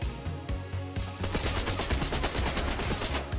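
Rapid automatic gunfire from a Marvel Avengers battle royale video game, bursts of dense sharp shots rattling almost continuously over a low droning game soundtrack, loud and close.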